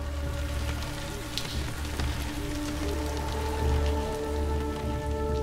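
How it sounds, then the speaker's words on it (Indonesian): Light drizzle falls steadily on a house roof, a dense and even patter of raindrops that continues alone without a break. "Suara rintik hujan terdengar jatuh di atap rumah."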